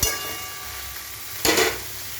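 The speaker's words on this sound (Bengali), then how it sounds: "একটু নেড়ে চেড়ে ঢাকা দিয়ে দেবো।" Ridge gourd, chopped tomato and green chilli frying with cumin in hot oil, a soft steady sizzle broken by two close scraping stirs of the pan, one at the start and one midway.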